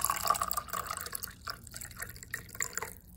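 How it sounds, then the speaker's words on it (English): Water is poured into a cup that holds salt. The splashing and trickling stays fairly quiet and uneven, then fades toward the end. "Now, I'm going to pour some of the water inside the cup with salt"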